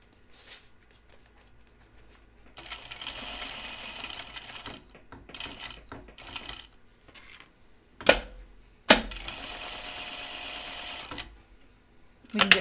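A sewing machine stitches a stripe onto a 1940s-style dress in two long steady whirring runs, close and fairly loud, with sharp clicks between the runs and no talking.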